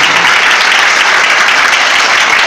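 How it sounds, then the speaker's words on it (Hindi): Loud, dense applause from a church congregation clapping to glorify God at a Christmas Hindi-language service, a continuous even roar of many hands close by, with no voices over it. "जोरदार ताली बजाकर परमेश्वर को महिमा दें।"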